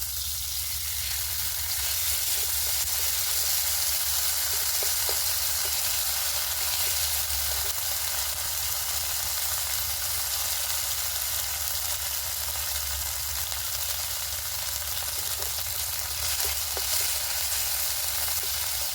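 Ginger-cumin paste sizzles and fries steadily in hot mustard oil in a pan, a dense continuous hiss close up with no talk.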